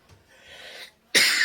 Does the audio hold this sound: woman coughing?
yes